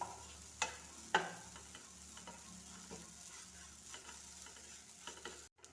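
Vermicelli frying in a pan until brown, a faint, quiet sizzle with a few sharp spluttering pops and light stirring scrapes, close by and without talk.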